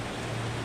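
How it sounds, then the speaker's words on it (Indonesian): Rain falls by a roadside as a steady, even hiss of broadband noise with a low rumble beneath, continuous and moderately loud with no voices. "Disaksikan air hujan yang jatuh beruntuhan"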